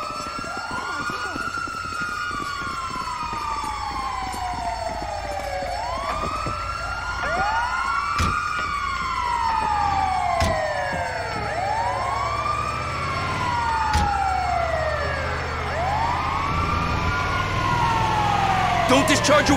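A wailing ambulance siren in Grand Theft Auto 5 gameplay rises and falls repeatedly, loud and steady, with sharp clicks and background noise throughout.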